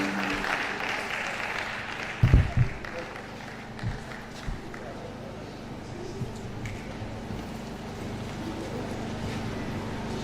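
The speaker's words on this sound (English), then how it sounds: "Please, can we welcome her with a round of applause?" Applause welcoming a university Dean-elect at a ceremony, a dense wash of clapping from a large audience with a few louder thumps and knocks near the mic, talk murmuring faintly underneath.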